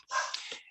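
A Manchester or English Toy Terrier gives a single short, close bark indoors, a brief sharp yip that fades quickly.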